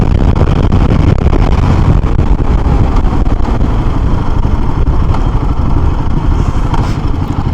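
A Royal Enfield Himalayan 452 cruises on a highway, its engine and wind producing a loud, steady roar as the tyres run over a rumble strip, adding a rapid, textured vibration throughout.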